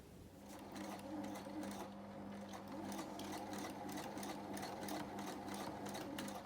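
Sewing machine running a zigzag stitch on a cloth mask, a close, steady, fast mechanical chatter with a regular rapid needle rhythm throughout, fairly quiet and alone.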